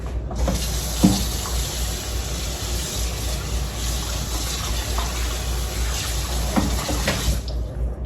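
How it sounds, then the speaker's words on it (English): Water runs steadily from a kitchen tap onto a casserole dish for several seconds, a continuous broadband gush with a few small clunks, close and fairly loud. "Put some water on that immediately."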